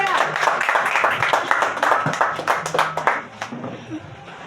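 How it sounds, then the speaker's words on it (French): Wedding guests clap for a newly married couple right after the vows, a burst of close, dense hand-clapping that thins out and fades over a few seconds, with voices mixed in. "Sous vos applaudissements, s'il vous plaît."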